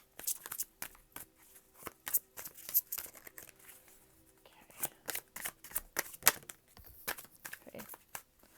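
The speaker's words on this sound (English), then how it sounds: "we're just gonna continue shuffling and see what cards pop out" Tarot cards are shuffled by hand in quick, faint bursts of riffling and slapping, repeating irregularly at close range in a quiet room.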